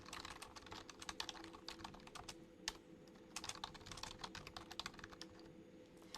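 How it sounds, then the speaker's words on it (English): Rapid typing on a computer keyboard during a live diary-reading session, with irregular bursts of close, crisp key clicks and short pauses between runs. "I'll type it too."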